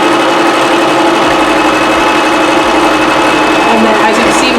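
A sewing machine stitches a hair bundle for a lace closure wig, running loud and continuous with a steady mechanical whir and no pauses.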